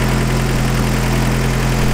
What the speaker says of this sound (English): right now it's idling at a 750